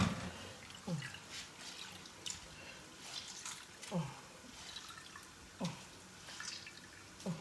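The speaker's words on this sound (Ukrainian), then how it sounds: "спробую її видушити ту воду, забрати її геть" Water drips and trickles faintly from soaked, sour cabbage being squeezed by hand over a salad bowl, with soft drops recurring every second or two against quiet kitchen background.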